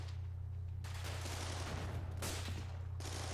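German machine gun fire in the Combat Mission Battle for Normandy war game rattles in dense, loud bursts over constant battlefield rumble.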